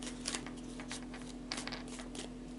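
Tarot cards are shuffled by hand, quiet close papery riffles and flicks coming in short bursts.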